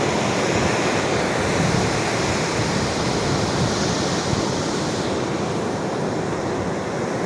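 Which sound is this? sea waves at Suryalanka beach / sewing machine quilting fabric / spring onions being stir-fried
sea waves at Suryalanka beach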